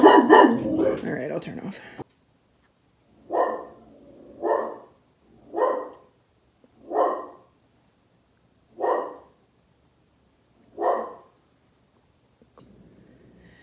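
A dog barks six times at steady intervals of about a second or so, each bark sharp and fairly close, in a living room. A person talks briefly before the barking and there is a quiet pause at the end.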